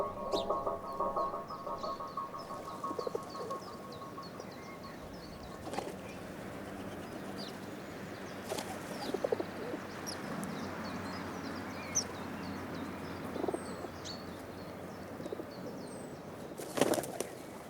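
Pigeons in an urban park beat their wings in several brief flapping bursts among scattered bird calls and chirps, over a soft, steady ambient background with no speech.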